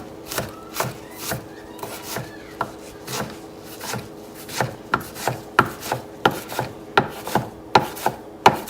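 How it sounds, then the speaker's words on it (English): Knife chopping through fresh ramps on a board in a steady run of close, crisp strikes, about two or three per second, picking up in pace and force toward the end with no talk. "You just want kind of a rough chop to get them opened up."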